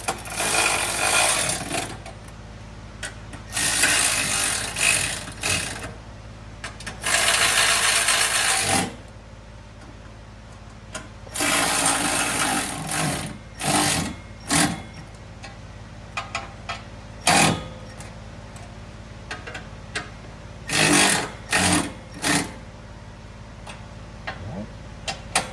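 Bolts on a stainless steel 24F battery conversion kit in a Honda Element are tightened in a cross pattern, heard as bursts of rapid ratchet clicking broken by short pauses and scattered metallic ticks, close and fairly loud.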